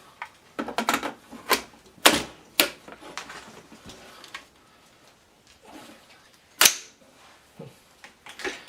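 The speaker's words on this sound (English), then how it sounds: "I can feel the bolt getting some resistance during the closing." An AR-15 bolt closing against a Swiss-made SWT magazine, heard as a series of sharp metallic clacks and clicks spaced irregularly at close range, with quiet gaps between them and no talk.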